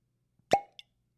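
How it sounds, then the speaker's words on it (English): A real cork pulls from a bottle of Starlight Single Barrel Honey Bourbon with a single close, crisp pop, followed a moment later by a faint light tick, in otherwise quiet surroundings. "cork pop. Real cork."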